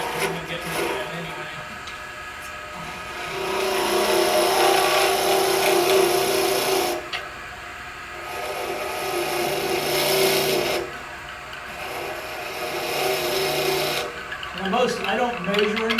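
Spindle gouge shaving down a spinning wooden top blank on a lathe: a steady, close rasping scrape in bursts of several seconds, broken by short pauses.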